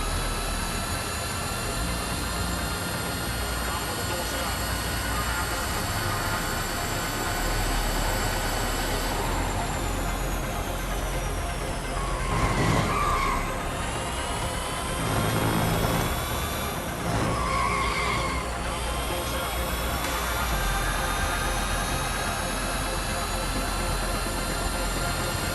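Race cars from the mobile video game Real Racing 3 produce a continuous synthetic engine drone with whining gear shifts. A few cars pass in sweeping whooshes, all under game audio with faint speech.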